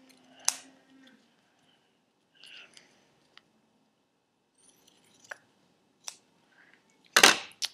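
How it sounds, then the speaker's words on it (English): A few sharp snips and crunches of scissors cutting through duct tape, spaced apart with quiet gaps, ending in a louder rustling cut. "Now you're gonna take your scissors, cut off the extra edges that you don't want."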